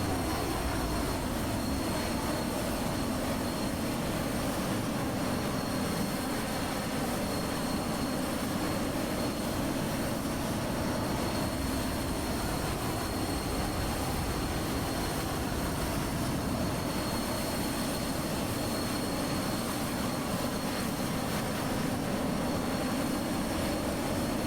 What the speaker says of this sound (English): You're probably gonna hear a lot of wind and engine noise.